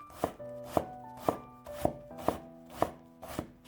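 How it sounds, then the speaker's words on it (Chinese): A knife chops carrot strips into small dice on a cutting board, giving about seven close, crisp, evenly spaced chops. "然后改刀切成细丝，尽量切细一些。 最后切成胡萝卜丁。"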